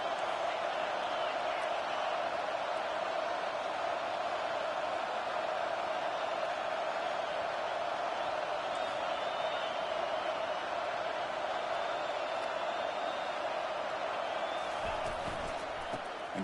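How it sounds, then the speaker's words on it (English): A home crowd at a college football game, Army, roars in a steady, dense wash of cheering and noise that fills the whole stretch. It holds at one level throughout, with no clear breaks or individual voices standing out. "this home crowd is fired up and ready to make a difference"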